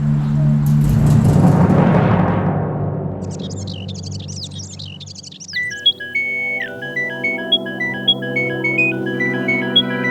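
A noisy burst fades out, then an electronic ringtone melody plays on repeatedly, steady and unanswered, with beeping tones repeating in a pattern.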